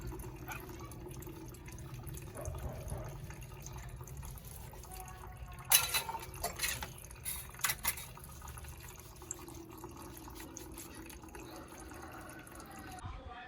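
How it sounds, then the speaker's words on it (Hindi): Dishes get washed in very cold water, faint trickling and splashing with a few brief clinks and splashes midway. A low background hum runs throughout. "ये अभी हम लोग जो है ना बर्तन धोने के लिए बैठ चुके हैं"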